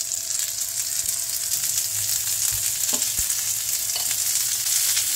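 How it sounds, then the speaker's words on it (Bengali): Broccoli sizzles on a hot oiled tawa, a steady dense crackle of frying with a couple of brief utensil knocks, close and fairly loud throughout. "তেলটা আমার গরম হয়ে গেছে। এবারে আস্তে আস্তে ব্রোকলিগুলো বসিয়ে দেব।"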